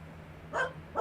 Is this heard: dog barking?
yes